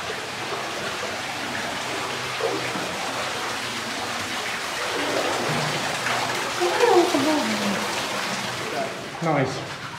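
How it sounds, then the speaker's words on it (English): A small waterfall runs inside the Luckett mine, a constant close splashing hiss that fills the whole stretch while people talk over it. "Got a bit of a waterfall up here."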